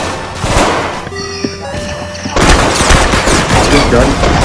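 Gunfire in the Roblox shooter game Arsenal: rapid bursts of close, loud shots and crackling blasts, pausing briefly before another dense volley, mixed with in-game effects.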